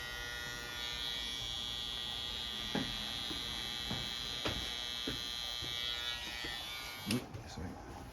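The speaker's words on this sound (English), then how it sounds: "I'm gonna run this trimmer down to get rid of all the excess hair." An electric hair trimmer runs down excess hair while a mid skin fade is cut on afro hair. A close, steady buzzing whine continues throughout, with small clicks and taps over it and faint voices in the background.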